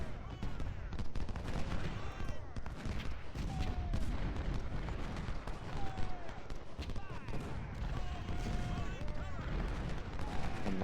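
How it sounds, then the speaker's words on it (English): Massed musket volleys and crackling rifle fire from infantry in the Civil War strategy game Ultimate General: Civil War, a dense continuous barrage of overlapping shots with distant booms, steady throughout under a busy battle din. "See if I can't get some flanking fire on those troops."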